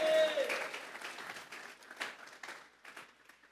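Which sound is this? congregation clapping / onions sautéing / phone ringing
congregation clapping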